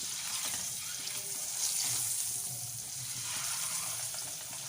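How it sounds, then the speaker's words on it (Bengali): Eggs frying in hot oil for a Bengali egg curry, a steady crackling sizzle that holds at an even level throughout, with no voices. "ডিমগুলো ভালো করে ভেজে নেব।"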